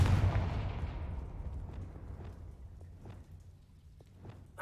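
Confringo fire-spell blasts in the Hogwarts Legacy video game: a loud booming burst at the start that decays into a rumbling tail, followed by several fainter distant impacts scattered through the rest.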